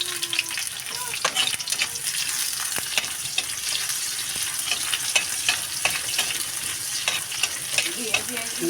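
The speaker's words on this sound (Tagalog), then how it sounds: "Ngayon, nagisa ko na guys ang bawang." Garlic and onion sautéing in a pan with a steady close sizzle, frequent stirring clacks and scrapes, and no speech.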